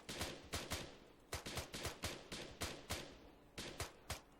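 Gunfire in a military shooter game: a close, rapid series of sharp shots in quick rhythmic bursts with short pauses between groups, each crack trailing a brief echo.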